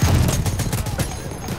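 Gunfire in the World War I shooter game Battlefield 1, a dense burst of rapid shots and thuds, loud and close, fading slightly toward the end.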